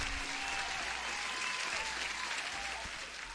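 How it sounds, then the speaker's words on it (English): Steady applause sound effect dropped into a live futures day-trading stream, a dense even wash of clapping that holds at one level for a few seconds, then dips slightly at the end. "Let me give you an applause."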